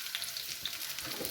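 A dried red chilli sizzles in hot tempering oil for a plantain stem mor kootu, giving a brief, even crackle at close range with no voices.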